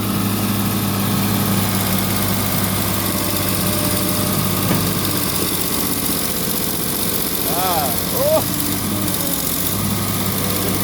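A steady SK200 excavator engine drone at full throttle with a low rumble runs throughout, staying loud and constant, with a voice briefly audible over it; the machine's arm lacks power.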